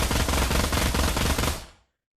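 A P90 submachine gun in the video game Pavlov fires one long, loud, rapid burst at close range, then cuts off abruptly and leaves a brief fading tail before silence.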